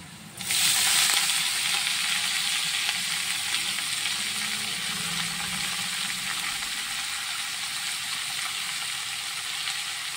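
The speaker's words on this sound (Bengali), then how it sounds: "রসুনটা একটু ভাজা হয়ে এসছে, আর একটা শুকনো লঙ্কাও ফোড়ন দিয়েছি। তো এবার ডাঁটা শাক দিয়ে দেবো।" Amaranth stem greens from a rooftop garden hit hot oil already holding garlic and a dried red chilli, setting off a loud, steady, close sizzle that starts abruptly and keeps going unbroken with no talking.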